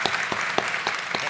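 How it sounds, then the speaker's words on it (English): Warm applause from the audience at a book event in New Orleans, a short burst of close, crisp claps that runs the whole moment. "Let's give her a warm round of applause."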